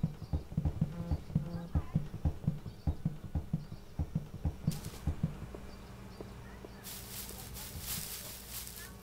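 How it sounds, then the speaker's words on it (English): Heavy, regular footsteps from the neighbor character in the video game Hello Neighbor, a steady thudding walk under a person talking, followed by a brief burst of rustling noise near the end. "Dude, I don't like hearing his footsteps."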